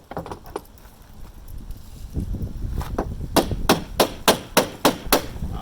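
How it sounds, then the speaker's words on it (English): Hammer blows on the metal body of a Lexus SC430 under repair: scattered light taps at first, then a steady run of about eight loud, sharp, evenly spaced metallic strikes close by. "Let me try hammering some of these spots."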